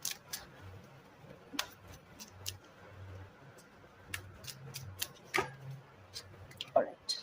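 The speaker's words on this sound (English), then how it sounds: "Three shuffles. It's happening." Tarot cards shuffled by hand in three quick rounds during a card reading, giving soft papery riffles and sharp ticks scattered across the clip, with a faint low voice murmuring beneath.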